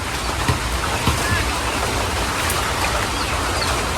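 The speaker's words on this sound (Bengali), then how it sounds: "তো বাইরে তো বৃষ্টি হইতেই আছে" Rain pours steadily outside a village kitchen, a broad continuous hiss with a few louder drips or knocks near the start.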